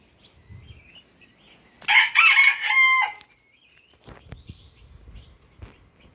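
A small rooster crows once nearby, a loud ragged cock-a-doodle-doo standing out from a quiet background, followed by soft rustling and low thumps.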